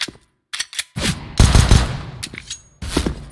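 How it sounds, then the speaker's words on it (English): Video game gunfire, a few scattered close shots followed by a dense, loud burst of fire with a final short volley, harsh and booming. "Oh my god, just shot."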